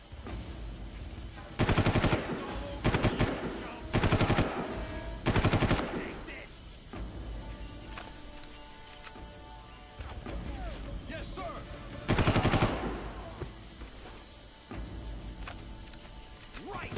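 Bursts of automatic gunfire in Far Cry, fired repeatedly at a tree: several loud, clustered volleys separated by short pauses, with game ambience and some talk in between.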